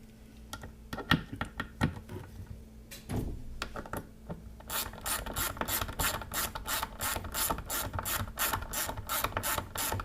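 A ratchet tightens new fasteners on a BulletProof Diesel FICM power supply during a crank-no-start repair, giving scattered clicks at first and then a steady, close run of rapid, evenly spaced ratcheting clicks.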